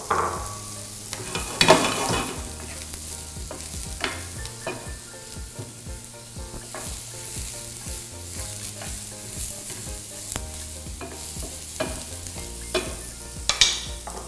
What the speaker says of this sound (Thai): พอกระทะร้อนใส่เห็ดลงไปฮะ